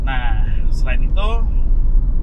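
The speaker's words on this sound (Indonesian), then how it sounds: "ini kecepatan lagi sekitar 60-70 km per jam, road noise-nya oke ya" Inside a Toyota Voxy minivan cruising at 60–70 km/h, a steady low road rumble fills the cabin while a person talks over it.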